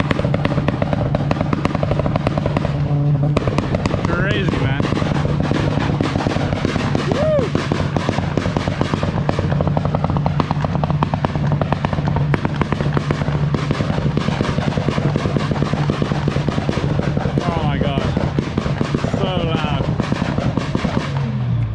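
Honda Civic engines at a large JDM car meet, revving hard in a rev battle with rapid popping, crackling exhaust bursts over a steady loud drone as the crowd talks and shouts.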